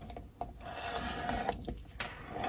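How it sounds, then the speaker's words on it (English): Rotary cutter trimming the edge of quilt fabric on a cutting mat, a soft, steady scraping rasp with a few sharper clicks along the way, close and fairly quiet. "And so now we can go ahead and trim this first side."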